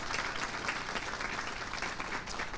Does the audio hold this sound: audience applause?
yes